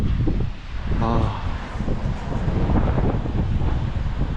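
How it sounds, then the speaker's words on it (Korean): Strong wind blows outdoors at a scenic spot beside moving water, a loud, steady roar buffeting the microphone throughout, with a voice heard faintly in the middle. "바람이 엄청 세요"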